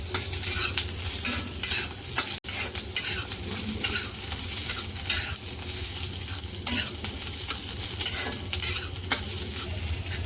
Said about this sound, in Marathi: आपण दहा ते पंधरा लसूणच्या पाकळ्या एक इंच आलं आणि एक दोन हिरव्या मिरच्या टाकूया त्यासुद्धा चांगलं भाजून घ्यायचं आहे